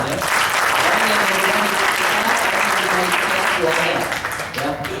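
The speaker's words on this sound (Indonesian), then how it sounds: "Boleh bagi satu tepukan buat dia, teman-teman ya" Loud, dense audience applause at an Indonesian Prudential insurance agency event, a thick roar of clapping hands with voices and cheering layered over it, holding steady before easing slightly near the end.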